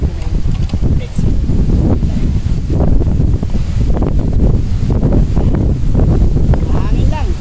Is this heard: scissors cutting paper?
no